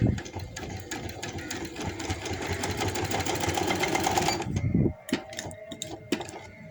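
A sewing machine stitches boy's short pants in a fast, continuous mechanical whir that builds for several seconds, then stops abruptly, leaving faint handling clicks and a short knock.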